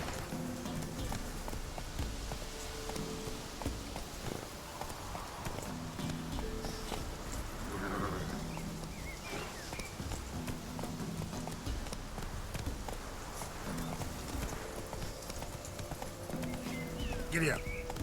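Horse hoofbeats in The Witcher 3 game, a steady clip-clop of a ridden horse running under in-game music, with a rider's voice urging it on at times.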